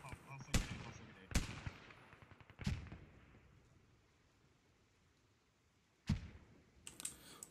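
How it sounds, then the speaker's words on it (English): Grenades exploding in a military shooter game, four or five sharp, fairly faint blasts at irregular intervals with short decaying tails and quiet gaps between, alone without talk. "they're throwing the nades now"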